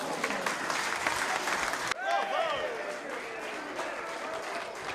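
Tavern audience applauding a magic show in an animated film, a dense burst of clapping that cuts off sharply, then resumes with cheering voices and lighter clapping underneath.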